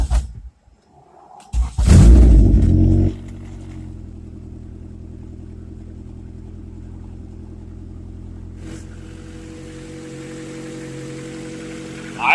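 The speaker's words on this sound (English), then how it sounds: "Now I'm going to start it and see how it runs." A Honda Civic with a B20B engine, just after a valve adjustment, cranks loudly for about a second, catches, then settles into a steady, even idle rumble nearby.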